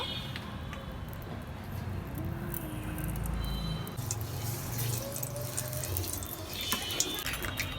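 Oil poured into a pan for egg and potato curry, a steady liquid trickle and wash heard close up for several seconds with no talking.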